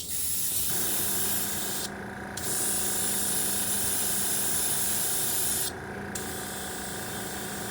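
Kustom Service paint goes on as a final wet coat in loud, sustained hissing spray bursts, with two short pauses between passes.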